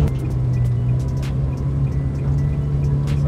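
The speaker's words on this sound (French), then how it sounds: "Un peu couvert par le bruit de la Cobra là." A Cobra sports car at an outdoor car gathering by a riverside gives off a loud, steady, deep engine rumble, close by, with a faint clatter over it.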